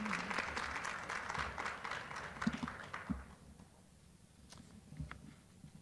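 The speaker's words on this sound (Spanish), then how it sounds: "Un aplauso, por favor." Audience at a pediatrics session applauding the speakers, moderate clapping from a room full of people that thins out and fades after a few seconds, leaving a few scattered claps and quiet room sound.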